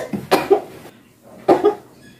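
Two separate coughs, each a short burst of two or three hacks, close and fairly loud, with a pause between them.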